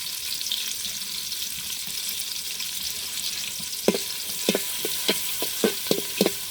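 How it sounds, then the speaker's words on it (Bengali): Garlic fries in hot oil in a pan with a continuous crackling sizzle, and a run of sharp utensil taps and stirring knocks comes in the second half, with nobody speaking. "রসুনের এখন একটু তেলে ভেজে নিব।"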